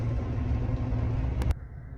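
A vehicle rumbles at low idle outside Sasquatch Motorsports, a steady close engine drone with no talk, cutting to a quieter hum after a brief click near the end.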